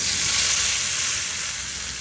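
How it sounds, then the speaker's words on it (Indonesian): Hot oil poured onto chili sambal hisses and crackles in a loud, dense sizzle, a continuous bright frying sound with no voices. "Nah ini aku guyur dengan minyak panas"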